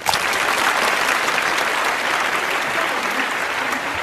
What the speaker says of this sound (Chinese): 非常感谢啊，大家这么热情的掌声